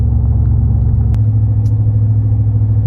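A Chevrolet Silverado truck cruising down the road, a steady, loud, low engine and road rumble heard from inside the cab, continuous throughout with a couple of faint clicks.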